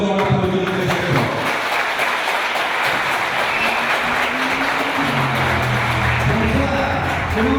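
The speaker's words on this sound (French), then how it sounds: "Je pense qu'on peut encore vraiment l'applaudir très fort." Loud, sustained applause from a crowd at a speech celebrating a 50th anniversary fills the space, dense and continuous throughout.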